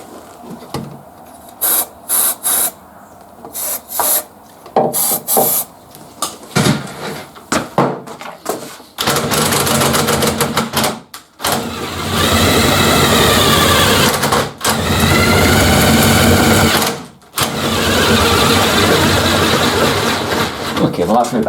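A battery drill cranks a router lift in a router station, the near, loud whirring motor cutting in and out in short bursts before settling into long sustained runs with brief pauses, steady and droning.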